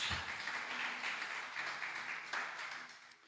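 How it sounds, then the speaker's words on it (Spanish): A church congregation claps during worship, a moderate, fairly distant wash of applause that sustains briefly and then fades away. "te damos un aplauso glorioso al Dios que vive por los siglos de los siglos"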